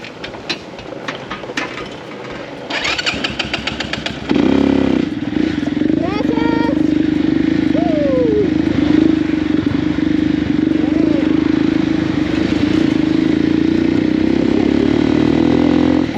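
A motorcycle with a persistent mechanical fault in the Dominican Republic catches and settles into a loud, steady idle after some clattering handling. The engine drone holds close and continuous to the end.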